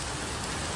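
Steady rain falling outside a shop, a dense, even hiss of drops on surfaces filling the short moment without any voices.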